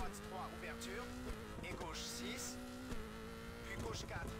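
Rally car engine in Colin McRae Rally 04 on PS2, revving and shifting pitch steadily with tire squeals, while people talk over it.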